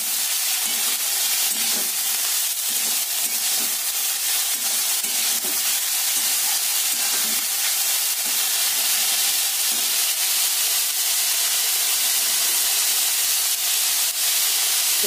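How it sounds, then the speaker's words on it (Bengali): Banana stem frying in oil with salt and sugar, a loud, steady hiss and sizzle running throughout, with soft rhythmic stirring scrapes and no talk. "নুন আর চিনিটা দিয়ে ভালো করে আগে ভাজবো।"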